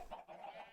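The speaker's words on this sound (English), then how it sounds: "And you can see we've got our chickens up here." Chickens in a Minecraft egg farm cluck softly and faintly in a brief, repeated pattern, with no voices.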